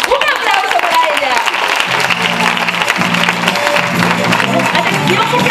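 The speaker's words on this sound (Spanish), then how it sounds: "¡Un aplauso para ella!" Children's theatre audience clapping and cheering as a performer is welcomed on stage, loud and continuous, with voices and a cheerful musical tone mixed into the crowd noise.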